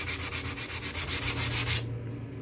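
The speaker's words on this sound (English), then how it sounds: "I'm just gonna hit it quick with my sanding block, knock it out" Sanding block rubbed by hand over dried pink-to-white paint on an RV camper wall: a quiet, even series of about ten rhythmic scraping strokes that stop abruptly near the end.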